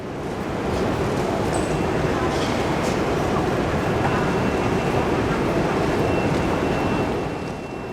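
Steady, loud rumbling roar fills the Canary Wharf London Underground station platform for nearly the whole stretch, fading in and out at the edges with no distinct individual events.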